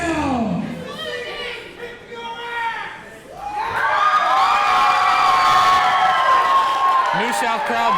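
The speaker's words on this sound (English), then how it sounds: "New South crowd doing all the talking for Cabana Man Dan." Wrestling crowd at a New South Wrestling event cheering and shouting loudly for Cabana Man Dan, a sustained roar of many voices with whoops rising after a quieter stretch of scattered yells and talk.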